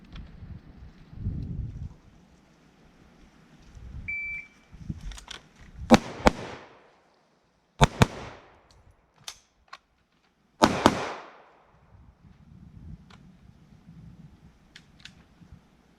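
Sharp, close gunshots from a close-quarters combat training drill in a riverbed, fired singly and in quick pairs across the middle of the clip, with quiet stretches and a faint murmur between them.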